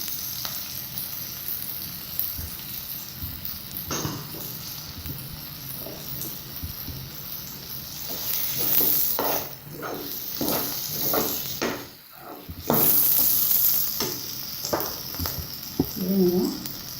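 Beaten egg poured into a hot pan and stirred while making macaroni pasta, a steady hiss of sizzling with scraping stirs throughout, under occasional speech.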